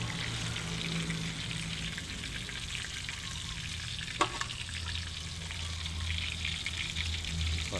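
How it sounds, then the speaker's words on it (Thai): Mackerel frying in hot oil for a simple breakfast, a steady crackling sizzle with bubbling and occasional sharp pops, heard close and continuous from start to finish. "ทอดปลาทูนี่แหละ"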